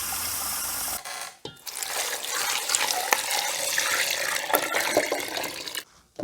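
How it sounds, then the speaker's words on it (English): Tap water from a private well runs steadily into a sink, a loud continuous splashing rush that cuts off briefly and resumes, with no talk over it. "I'm gonna run the water so that the well can get down to some of that cooler water"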